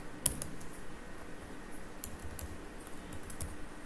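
Quick clusters of light keyboard clicks while code is typed on a computer keyboard, faint and irregular, with one sharper tap near the start and no talking.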